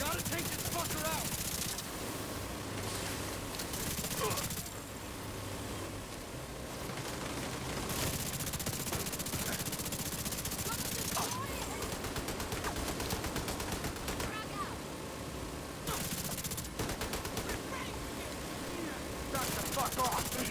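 Sustained gunfire in The Division 2, bursts of rapid shots layered over a dense, loud battle din that runs almost without pause, with a voice talking over the fighting.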